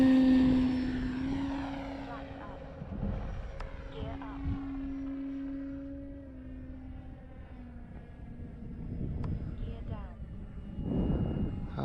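A Carbon Z T28 radio-controlled model airplane taking off with flaps set: a steady, droning motor whine that shifts in pitch and swells again toward the end, heard from a moderate distance.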